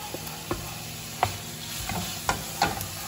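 Chicken kurma with spices being sautéed and stirred in a pan, with a quiet steady sizzle broken by several scraping stir strokes at uneven intervals, close and fairly soft.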